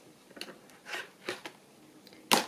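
Scissors snipping netting and decorative paper while finishing a file folder folio, heard as a handful of short, soft crisp cuts spaced apart, ending in a sharper, louder snip.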